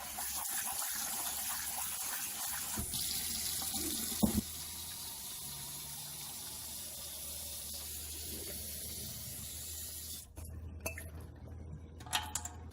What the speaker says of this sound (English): Be sure to wash your basil leaves, especially if you have a fresh plant like we do.